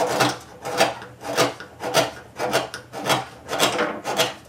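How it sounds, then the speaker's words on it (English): A blunt homemade hand scraper rasps old paint off the tailgate of a Ford F100 pickup, making about eight close, rhythmic scraping strokes in steady succession with no talking. "I'm just using this scraper that Jim made me"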